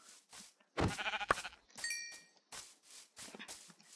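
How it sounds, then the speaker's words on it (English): Minecraft sheep bleat in quick bursts amid in-game hits and a bright chiming ding, the short wavering cries close and fairly loud, spaced across a few seconds with no talking. "let's kill the sheep"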